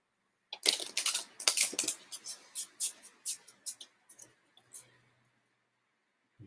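A tarot deck is shuffled by hand at close range, giving a quick run of crisp card riffles and flicks that grow sparser and fade out.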